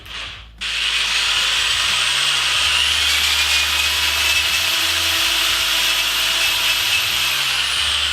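A power drill whirs steadily at high pitch after a brief start, with a faint scraping as it spins an apple against a peeler blade.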